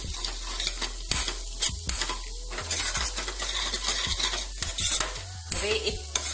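Chopped onions sautéing in a pan with turmeric just added, a steady sizzle broken by repeated sharp scrapes and clinks of a spoon stirring against the metal, close and alone.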